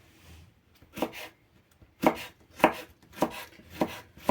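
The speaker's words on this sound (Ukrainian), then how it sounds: "Перець буду різати соломкою." A knife slices bell pepper into thin strips on a board in a kitchen, producing a handful of crisp, separate chopping thuds at an uneven pace, close and fairly quiet.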